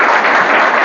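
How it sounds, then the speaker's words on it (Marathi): An audience in a hall at a competitive-exam coaching centre in Latur claps loudly at a felicitation ceremony, a dense, even burst of close applause with no talk over it. "जोरदार टाळ्या हो जाएगा."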